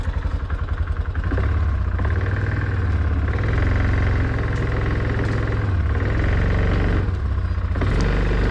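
A running ATV engine holds a steady mid-pitched idle that rises briefly near the start as it is shifted into forward gear, close and loud with no talking.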